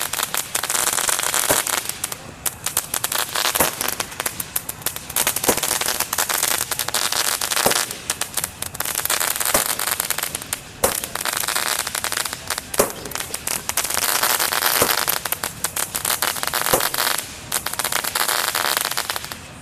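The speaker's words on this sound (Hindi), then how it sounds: "ये क्रैकलिंग वाला 12 शॉट है" A 12-shot crackling firework for Diwali fizzes and crackles loudly and continuously for about twenty seconds, dense crackle punctuated by periodic sharper pops, fairly close, with no talking.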